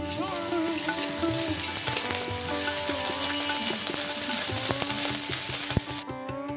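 Onion and ginger paste frying in a pan for a Bengali home-cooked meal, giving a steady, dense sizzle that holds close and even throughout, with faint utensil clinks and a brief sharp knock near the end.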